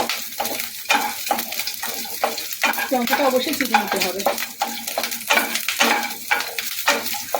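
Garlic and slit green chillies fry in a pan for paneer thecha, a steady sizzle with stirring clatter, while someone talks over it throughout.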